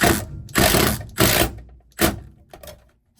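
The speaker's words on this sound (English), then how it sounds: "That's just a little screw and you can hear it." A small screw driven by hand into solid old wood, heard as four loud ratcheting bursts with short pauses between, then a fainter final click, close by with no talk.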